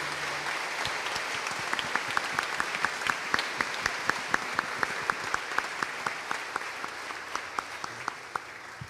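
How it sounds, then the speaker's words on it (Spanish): A church congregation claps for the reading of Scripture, with individual handclaps standing out at a fairly steady rhythm over a wash of general applause that holds for about nine seconds. "Vamos a darle un aplauso a la palabra de Dios fuerte"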